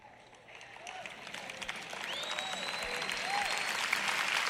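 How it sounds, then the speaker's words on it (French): Audience applause at a sermon begins faintly and gradually builds into a fuller, steadier clapping over a few seconds, with whistle-like tones drifting above it. "Ces applaudissements ont commencé plutôt faibles."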